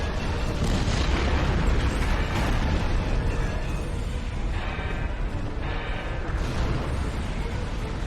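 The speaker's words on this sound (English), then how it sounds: "Detonating charges" Detonating charges go off in Star Trek Online as a continuous roar of loud explosions with a dense, sustained blast and rumble throughout.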